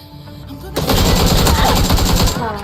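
Rapid automatic gunfire in a shooting video game, a dense loud rattling burst starting after a brief pause and continuing nearly unbroken to the end, up close.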